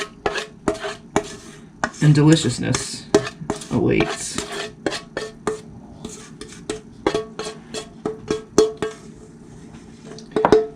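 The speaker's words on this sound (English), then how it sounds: "Scrape all this into 2 loaf pans," Spatula scraping pumpkin bread batter from a mixing bowl into two loaf pans, with repeated close clinks and scrapes of utensil on dish, a brief spoken phrase partway through.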